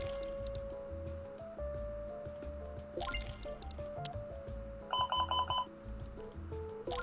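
A repeated electronic beeping alarm inside the video game Card Collection Simulator, heard as a rapid chain of short tonal beeps amid layered game music and clinking sounds, moderately loud, with no talking.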